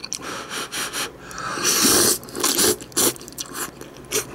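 Someone eating Nongshim Jjawang jjajang cup noodles up close, with bursts of slurping and chewing broken by short pauses and a sniff, no talking.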